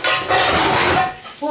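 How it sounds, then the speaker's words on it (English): Metal baking pan pulled from a cluttered kitchen cabinet while making meatloaf, with a loud, steady clatter and scrape of pans and cookware close by, fading out near the end. "Let me grab a pan and we'll put it in."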